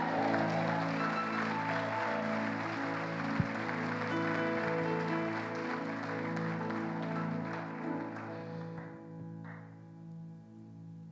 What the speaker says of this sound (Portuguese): dê um glória a Deus e aplauda o Senhor Jesus.